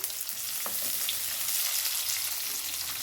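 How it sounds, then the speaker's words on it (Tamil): Sliced onions sauté in hot oil with fennel seeds for chickpea kurma, a continuous close, even sizzle with faint stirring and no voices. "வதங்கட்டும் வெங்காயம்"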